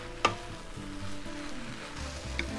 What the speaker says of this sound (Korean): 이렇게 3분만 볶습니다. 3분만. 그래서 파 향이 요 묵은지에 충분히 들어가게 하는 거예요.